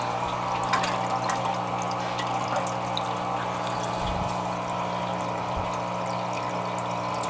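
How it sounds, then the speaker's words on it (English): An Electrolux washer slowly drains during its drain and spin cycle, a steady close wash of running water with a low pump hum underneath and a couple of faint thumps, and no talk. "So now we are in a cycle where the drain and the spin runs."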